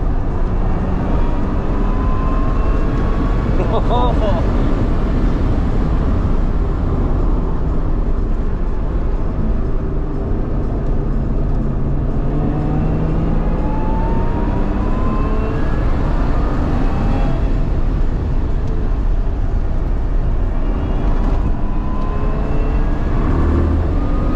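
A Lotus Emira fitted with a Milltek exhaust runs hard on a race circuit during a track day, its engine a steady, loud drone with rising and falling pitch through gears, continuous and close throughout with no talk.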